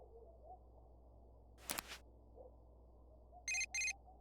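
A phone message notification in Persona 4 Golden: a short electronic chirp, then after a pause two bright tonal beeps in quick succession, clean and fairly loud over a quiet low background.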